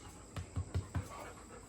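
Dogs pant close by in four quick, heavy breaths, then fall quiet against a low steady background hum.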